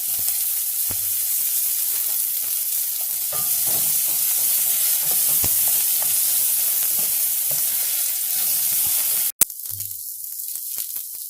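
Okra and green bell pepper sauté in hot oil in a pan with dried red chillies, curry leaves and green chillies for sambar, a steady close sizzle and hiss broken by a brief stir near the end.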